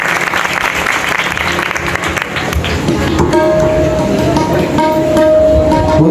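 An audience claps loudly and continuously during a Ganesh Chaturthi katha gathering, the dense applause building and holding steady with faint background voices and a musical tone joining partway through.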